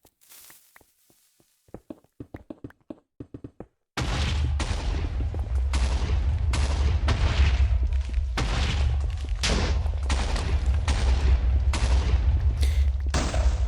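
Explosions in the Minecraft Cobblemon video game: a few short sharp pops, then a sustained rumbling roar of continuous loud blasts that fills the rest of the stretch, with no voices.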